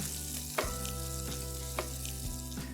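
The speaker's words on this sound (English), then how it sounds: "I'm going to add some shredded onions and I'm going to let them caramelize" Shredded onions fry with whole spices such as peppercorns and a bay leaf, giving a steady close sizzle broken by a few sharp stirring clicks and scrapes.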